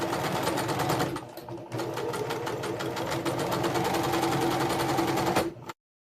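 Sewing machine stitching the butted corners of a fitted sheet made from a flat sheet, a steady rapid needle chatter running continuously and fairly close, with a short pause early on before resuming until it stops abruptly.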